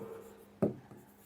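A single short scratch of writing on a board during a class 4 maths lesson, close and fairly soft against a steady background hum.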